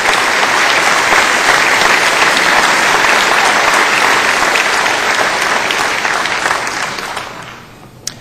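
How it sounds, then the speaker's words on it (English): Members of the Louisiana legislature give Matt sustained applause, a thick, even roar of many hands clapping that stays strong before fading out near the end. "Let's give Matt a great round of applause for returning home to Louisiana."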